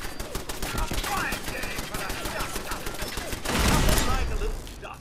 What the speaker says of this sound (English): Well, I'm still shooting that.